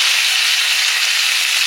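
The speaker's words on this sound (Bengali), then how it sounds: "এবারে ইলিশ মাছটা ভাজছি" Hilsa fish sizzling in a pan: a steady, close, bright frying hiss that holds evenly from start to finish with no voices.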